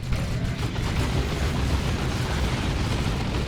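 An explosion in the real-time strategy game Dawn of War 2, a dense, steady low rumble of blast and debris that holds for several seconds at even loudness, with no talk over it.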